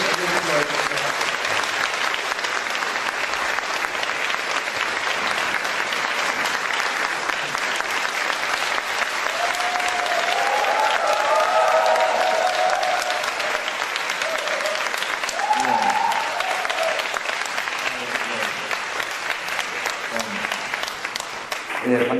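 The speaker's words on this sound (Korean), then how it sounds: "큰 박수와 함께 부탁드리겠습니다." Long, enthusiastic applause from an audience in Sydney welcoming a lecturer, dense and steady throughout, with cheers and voices rising in the crowd midway.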